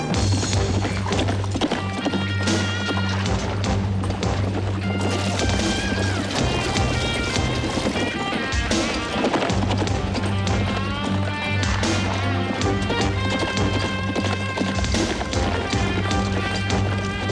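A horse gallops with rapid rhythmic hoofbeats, heard under a loud, dense music score and sound effects in a dubbed western adventure series.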